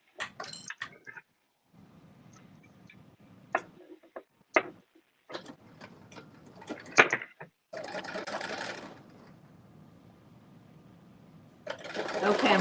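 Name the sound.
sewing machine stitching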